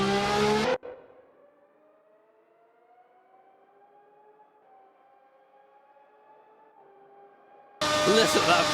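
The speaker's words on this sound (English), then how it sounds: "Listen to that V12 scream." A Formula One car's V12 engine in the racing game Assetto Corsa, revving to about 13,000 rpm on a Le Mans straight, gives a thin, rising, steady whine, fairly faint and heard alone between louder sections at the start and end.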